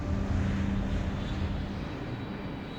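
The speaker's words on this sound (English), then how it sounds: "the aeroplanes open their undercarriage around about now" A low-flying airplane on approach with its undercarriage lowered, giving a steady, continuous engine roar with a low droning hum, alone and fairly loud throughout.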